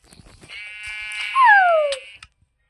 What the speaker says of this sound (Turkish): Ay koyun var.